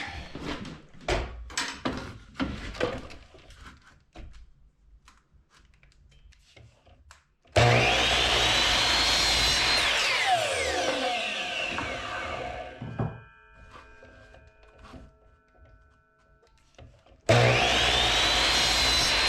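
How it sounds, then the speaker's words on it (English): A power tool rips a cedar trim board lengthwise, with a loud, close sustained cutting whine that bursts in abruptly, runs for several seconds, stops, then starts again near the end, after a stretch of scattered wood knocks and handling. "Just want to split this board up"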